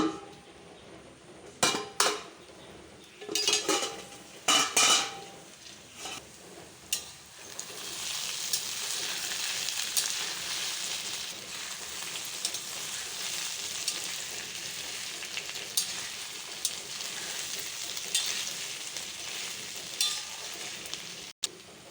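Pre-fried freshwater snails for geri alu dropped into a hot pan, starting with sharp clanks of utensil against metal, then settling into a sustained sizzle with occasional stirring scrapes, no voices.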